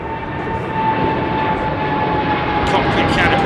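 An airliner taking off from runway 09R and climbing out, heard as a loud, continuous jet-engine roar that stays steady throughout while spectators talk nearby.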